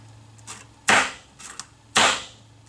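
Two sharp, loud punching snaps about a second apart as a hole is punched in a wedding invitation card, with a few softer clicks and rustles between them.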